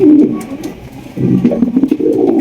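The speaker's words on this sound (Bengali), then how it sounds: "এখানে রয়েছে খুবই সুন্দর চমৎকার একজোড়া কবুতর দেখতে পাচ্ছেন জার্মান পলিশ আউল কবুতর" A pair of German Polish Owl pigeons coo close by in two soft, throaty bursts separated by a brief lull, with no voices over them.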